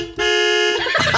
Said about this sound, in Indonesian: Klakson dulu, cuy. Klakson.